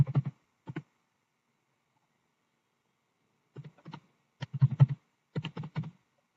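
Login credentials being typed on a computer keyboard: short bursts of close, crisp key clicks separated by a long silent pause, then quicker clusters of keystrokes.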